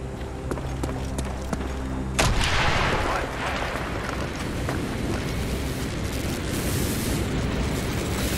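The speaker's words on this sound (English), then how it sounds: "Mason, blow a hole in that fucking wall." Explosive charge blasting a hole in a wall in Call of Duty Black Ops, a sudden loud boom that cuts through steady music and rolls into a long rumbling debris roar.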